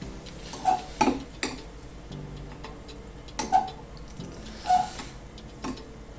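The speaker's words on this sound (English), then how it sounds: "Give that a good stir." Hibiscus tea being stirred in a pot with a spoon, a few distinct clinking taps of metal against the pot at irregular intervals over a quiet background.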